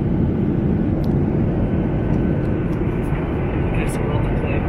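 Aircraft engines roar as a steady, loud, close drone inside the cabin while passengers board a flight to Kabul, continuous throughout with no breaks.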